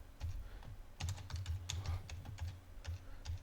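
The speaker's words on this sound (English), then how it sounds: "I'm going to type in the root password." A root password is typed on a computer keyboard, giving a quick, fairly steady run of close, soft keystrokes over low background hum, with no talk.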